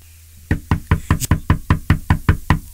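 Loud, close knocking on a door: about eleven firm, evenly spaced raps in a steady rhythm with nothing else heard.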